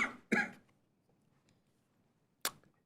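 A single sharp cough at a city council meeting, one short burst after a brief voiced throat sound, followed by near silence in the room and another abrupt cough-like burst near the end.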